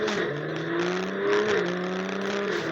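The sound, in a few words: BMW M340i dual valve exhaust sound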